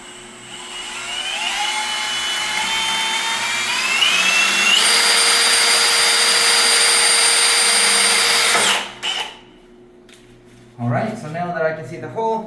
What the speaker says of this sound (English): Alright, we're going to start drilling the hole here.